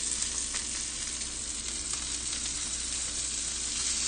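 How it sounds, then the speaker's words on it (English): Food sears in a hot pan with a steady, close sizzle and crackle that holds evenly throughout, with no voices over it. "Okay, it's definitely getting a nice sear."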